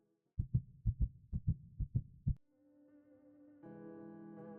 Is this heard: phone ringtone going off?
no